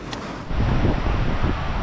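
North Sea waves wash up on the beach in winter, a loud broad surf rush swelling after a brief lull and mixed with wind buffeting the microphone.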